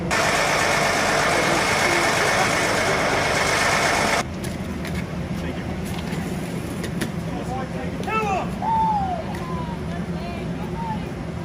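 A team bus arriving for Boise State's season opener idles with a steady, mid-pitched engine drone that holds throughout. Loud broadband noise covers the first four seconds, and people talk nearby over the engine later on.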